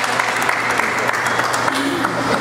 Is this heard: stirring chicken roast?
no